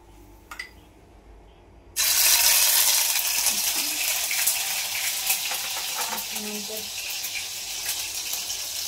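Ginger garlic paste drops into hot oil in a pan. After a quiet start with a couple of small clinks, a loud sizzle bursts in suddenly and keeps crackling steadily, easing slightly as it goes.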